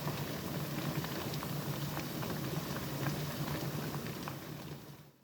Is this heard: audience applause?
no